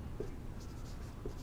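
A pen scratches on paper while a maths problem is written out. The scratching is faint and soft, with a couple of brief light taps against a quiet background.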